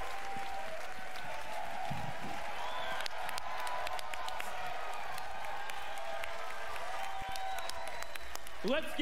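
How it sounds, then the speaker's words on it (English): A press conference audience at Bethesda's E3 2018 showcase breaks into sustained applause, a dense, steady wash of clapping and faint cheers with a voice talking over it. "At least they give him the good applause."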